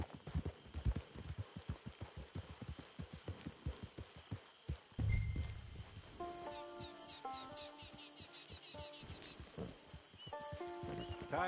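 Horse hooves clip-clopping in Red Dead Redemption 2 Online, a steady run of close hoof strikes at first, then slowing, joined by musical tones and a brief snort.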